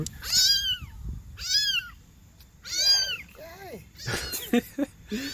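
A rescued kitten in a backyard meows repeatedly, several clear, high, drawn-out cries with pauses between, close by, followed by a burst of quicker, shorter mews and rustling toward the end.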